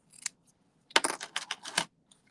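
Scissors snip through fabric scraps at a quilting table, with a brief cut followed by a longer run of crisp, close snipping bursts and no talking.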